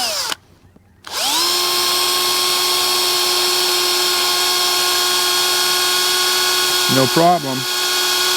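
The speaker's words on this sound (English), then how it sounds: "we got that hole drilled through there" A power drill bores through a plastic part of a fishing rod with a steady, close, high whine that runs for several seconds, with a short spoken phrase near the end.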